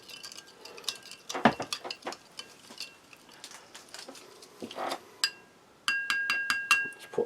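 Water poured into a glass with a spoon stirring, a series of sharp close clinks and light taps on glass, scattered at first, then a quick rhythmic run near the end.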